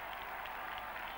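Sustained applause from a tennis crowd at a 1994 US Open quarterfinal, a steady dense patter of clapping that holds evenly throughout without breaks.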